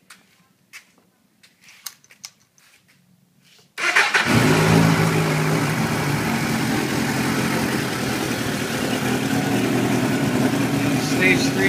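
A few quiet clicks and taps, then a 1988 Suzuki GSX-R 1100 motorcycle engine with a Stage 3 jet kit bursts to life and runs loud and rough, revving steadily up close.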